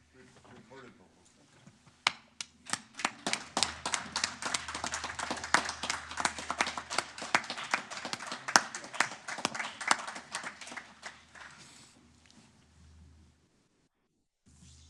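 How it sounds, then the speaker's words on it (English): Council meeting audience giving a standing ovation to staff for their report: sharp, dense clapping swells in after a quiet start, holds strongly for several seconds, then thins out and fades to silence. "I think we should give a standing ovation to our staff who wrote that report"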